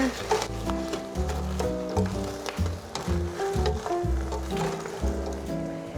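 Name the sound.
cranberries popping while boiling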